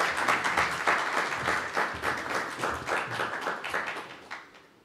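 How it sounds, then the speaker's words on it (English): Audience at a startup launch event applauds the presenters, a burst of many distinct hand claps that holds steady and then thins out and fades toward the end. "one more clap for all the presenters"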